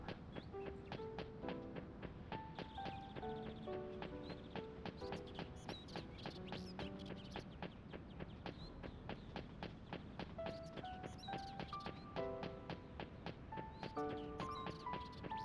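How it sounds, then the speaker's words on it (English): A character's footsteps on a textured surface in Shenmue 2, a steady series of regular steps layered under the game's melodic background music. "Really love the sound of his like footsteps on this texture."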